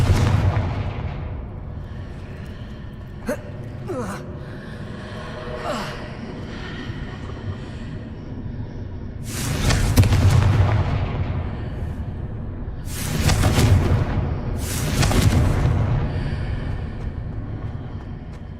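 Confringo blasting spells explode in Hogwarts Legacy, three loud broadband bursts with rumbling tails arriving around the middle and late part, over a steady low game ambience with scattered small effects earlier.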